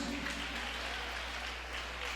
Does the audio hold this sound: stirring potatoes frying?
no